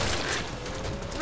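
Weapon reload in the zombie shooter Killing Floor, a short burst of clicking, ratcheting metallic mechanism noises packed into about a second, close and moderately loud.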